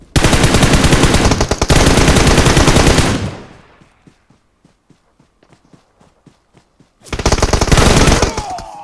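PUBG Mobile gunfire on the Sanhok map comes in two loud, dense automatic bursts, with a gap of scattered single shots or footsteps between them.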